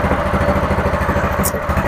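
A small water pump engine runs after six months in storage, a loud, fast, steady putter with rhythmic mechanical clatter heard up close.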